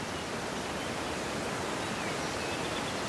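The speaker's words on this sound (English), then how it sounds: "the most famous waterfall on the island of Kyushu, the Shindao no Otaki Falls" Shindao no Otaki Falls on Kyushu, Japan, a waterfall around 262 feet high, gives off a dense, unbroken rushing roar that stays steady throughout.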